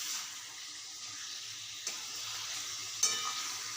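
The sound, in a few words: marinated chicken frying in oil, turned with a spatula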